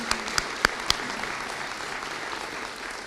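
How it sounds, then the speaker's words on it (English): Audience applause at a police services awards ceremony, steady even clapping filling the room with a few louder individual claps standing out near the start. "can we give them a round of applause as well for doing that?"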